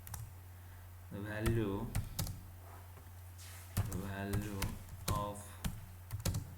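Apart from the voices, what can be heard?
typing code on a computer keyboard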